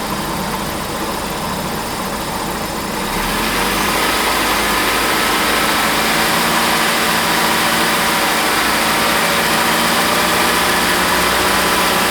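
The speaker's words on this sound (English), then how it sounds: "the reason for me revving it up a little bit" A car engine runs loudly and steadily during an AC system recharge, idling then rising in pitch as it is revved a little and held at a higher, constant drone.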